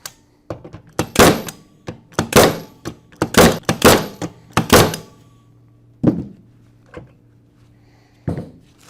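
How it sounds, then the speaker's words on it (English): Flexco powered rivet driver setting BR rivets through a solid plate into a conveyor belt, giving a close run of loud, sharp thunks in quick bursts, then a few spaced single hits. "those rivets are set into the belt and we have good pucker"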